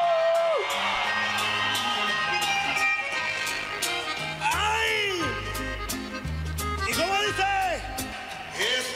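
Mexican grito celebratory shouts and whoops over loud banda music, with long rising and falling yells repeating across the passage.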